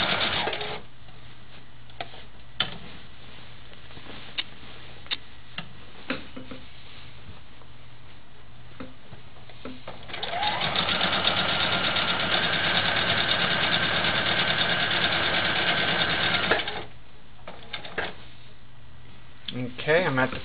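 A sewing machine stitches a quilt, running in one long steady whirring burst of several seconds, preceded and followed by quiet clicks and handling, with someone talking before and after.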